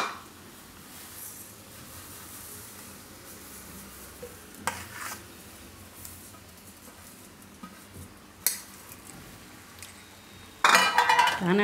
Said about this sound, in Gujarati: આને આપણે આમાં મિક્સ કરી દઉં ખજૂરમાં તલને.